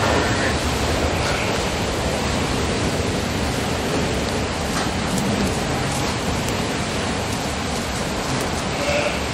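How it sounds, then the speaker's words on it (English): A tremendous hailstorm pounds on a roof during lambing, a dense, unbroken roar of countless impacts that stays loud and even throughout. "It's a tremendous hailstorm"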